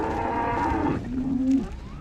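Cattle in a dry cow pen give two long, low moos in quick succession, close and loud, the second call holding a steady pitch before trailing off, with no talking.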